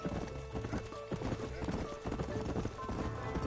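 A horse's hooves clip-clop in a fast, steady gallop in the video game Red Dead Redemption, loud and close, with a brief whinny and some speech over the running.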